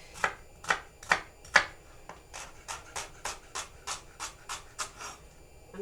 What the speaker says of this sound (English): So we'll just get these chopped up small